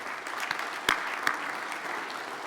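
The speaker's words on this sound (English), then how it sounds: "Give yourself a round of applause." Audience applause at a 2022 career education recognition ceremony, a steady wash of clapping from a crowd with a few sharper, louder claps standing out, continuing evenly throughout.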